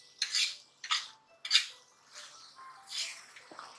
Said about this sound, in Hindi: अच्छे से इसे मिक्स करते हैं।